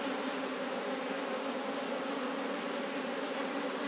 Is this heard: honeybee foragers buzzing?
yes